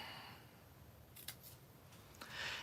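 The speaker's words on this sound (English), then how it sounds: "we're going to use our scissors here and we're going to just angle cut and then angle cut" Scissors making quick angled cuts through paper for a handmade square pillow box, a few soft close snips and rustles, with no talking.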